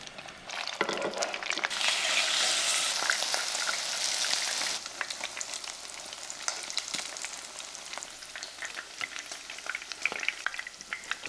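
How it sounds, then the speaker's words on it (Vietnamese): Loud, crackling sizzle of bite-sized tofu pieces deep frying in hot oil, bubbling steadily, then settling into quieter popping and spatters. "Mình cắt nhỏ thành từng miếng vừa ăn và đem đi chiên giòn đều các mặt"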